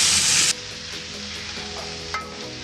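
Mashed potato and tomato sauté in a hot pan, opening with a loud, bright sizzle that cuts off after half a second and leaves a quieter crackle, a faint scrape and one brief clink near the end.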